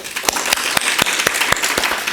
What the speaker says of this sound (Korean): 여러분들 격려의 박수 한번 부탁드립니다